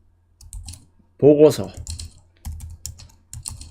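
Keys clicking on a Mac keyboard during a shortcut copy-and-paste, a few short bursts of taps with a brief voice in between.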